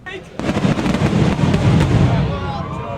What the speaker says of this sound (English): suddenly we heard this massive explosion